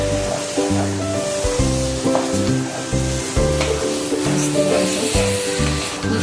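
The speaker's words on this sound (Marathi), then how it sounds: "आता मी याच्यामध्ये हे जे आपलं हे आहे फाटलेलं दूध ते ॲड करते आणि आपल्याला हे चांगलं मिक्स करून घ्यायचं आहे" Curdled milk being stirred into thickened milk for kalakand in a pan, loud close bubbling and sizzling with repeated rhythmic scraping strokes of a spatula, steady over a low kitchen hum.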